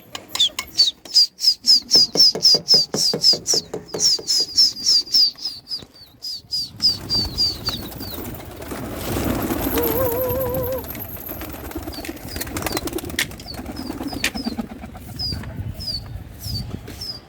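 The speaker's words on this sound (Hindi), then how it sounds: "उड़ चुके हैं कबूतर।" Pigeons released from a rooftop in Agra burst into flight with a flurry of flapping wings, mixed with sharp repeated chirps and calls nearby that thin out as the flock flies off.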